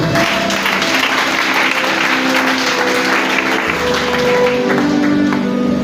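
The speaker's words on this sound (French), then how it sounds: "tu peux acclamer le Seigneur." A church congregation claps for the Lord, a loud, steady wash of applause that fills the whole stretch, with music or voices faintly underneath.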